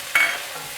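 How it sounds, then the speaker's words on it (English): Chopped tomato drops into hot oil in a pan for tadka dal, giving a sudden short sizzle that quickly settles into a soft, quiet frying hiss. "In goes 1 chopped up tomato, and going to cook it for another 5 minutes"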